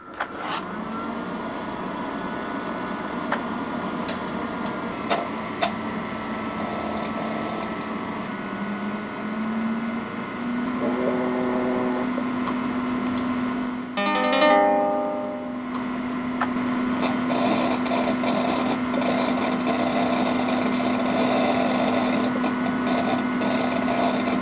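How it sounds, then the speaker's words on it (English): A 1996 Silicon Graphics O2 IRIX computer powers up with a steady fan hum and old hard drives whirring. A rising tone settles into a constant drone, broken by a brief clicking burst midway, close and continuous. "I never used an IRIX machine before, so just booting it up was so exciting."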